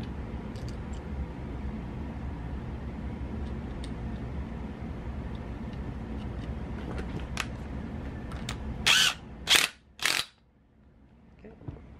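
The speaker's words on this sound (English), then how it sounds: "Let's gun this one in also." An impact gun fires three short, loud rattling bursts near the end while tightening a KO factory-spec motor sprocket, following a stretch of low steady background hum.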